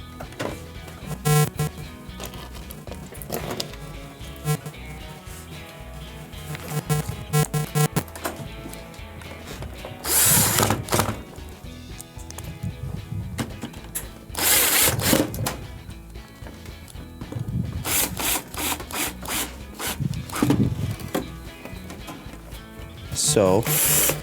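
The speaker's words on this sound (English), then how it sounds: "then we can reinstall our 3 Phillips screws" Screws being driven back into a Samsung washer's replacement control board, heard as bursts of ratcheting screwdriver clicks with pauses between, close and moderately loud.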